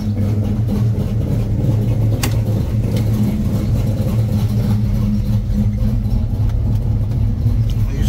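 A 1989 Fox-body Mustang convertible with a swapped Coyote engine idles loudly and steadily close by, a low, continuous rumble that holds even throughout as the air-conditioning clutch engages.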